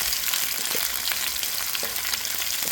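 Onion and garlic sizzle steadily in a hot pan while cooking potato with corned beef, a continuous close crackling fry with faint occasional stirring scrapes and no talking.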